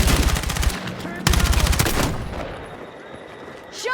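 Rapid bursts of automatic gunfire crackle close and loud in the Battlefield 6 video game, two dense volleys in quick succession before fading into quieter battle noise.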